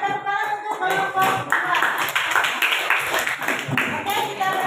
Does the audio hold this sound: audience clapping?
yes